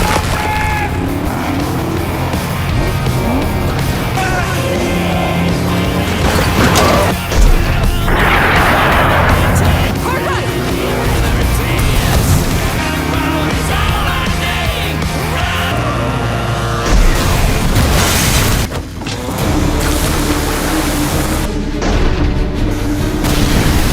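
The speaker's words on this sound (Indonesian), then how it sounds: "Tank langsung menembakkan meriam ke arah gereja" A tank fires its cannon at a church in a film scene, with loud booming blasts and explosions over dense, chaotic action sound and music that continues throughout.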